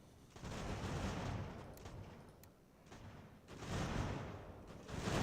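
Musket volleys in the strategy video game Ultimate General: American Revolution, rolling bursts of distant massed gunfire that swell and fade in waves, fairly faint and without voices.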